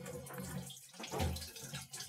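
A tap in an off-grid cabin runs with air in the line, the water sputtering and gushing unevenly at close range in one continuous rushing stream.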